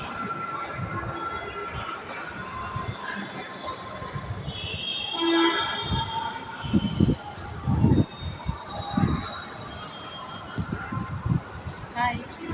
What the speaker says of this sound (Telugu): ఓకే, మన ట్రైన్ వచ్చేస్తుందండి.